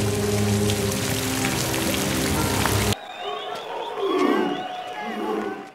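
Steady rain pours down with dense patter for a few seconds, then gives way to a quieter outdoor scene with scattered drips and soft animal-like calls.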